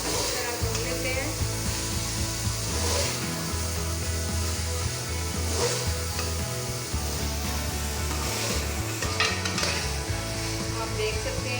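Chickpeas and whole green chillies fry in ghee while being stirred for chana pulao, a loud continuous close sizzle with scraping stirs throughout, with some background noise underneath.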